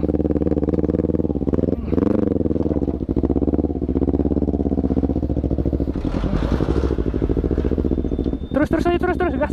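A motorcycle engine revs loudly and steadily under throttle at close range, the pitch rising and falling with gas, while people shout over it.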